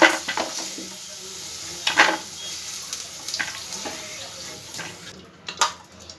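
Eggplant pieces frying in a pan for a spiced masala begun dish, a steady close sizzle with occasional stirring scrapes and clinks.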